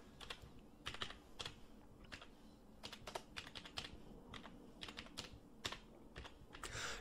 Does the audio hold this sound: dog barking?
no